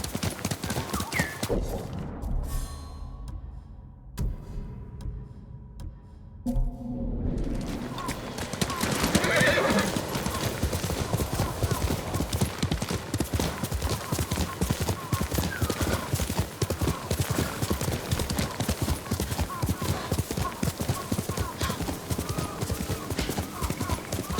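Horse galloping with rapid clip-clop hoofbeats and a loud whinny in Ghost of Tsushima, the hooves pounding steadily and close under occasional voices.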